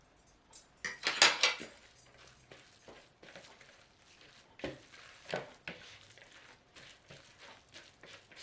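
Chicken croquette mixture with eggs being mixed in a bowl, irregular wet scraping and clinking bursts of utensil against the bowl, close and moderately loud, separated by quiet pauses.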